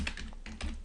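Typing on a computer keyboard while entering a label in Microsoft Access, a quick close run of about four crisp key clicks in under a second.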